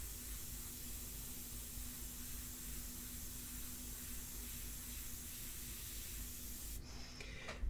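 An airbrush with modifications sprays ink for a portrait, giving a steady, even hiss that carries through the whole clip with a low constant hum beneath it and ends in a brief sharper burst.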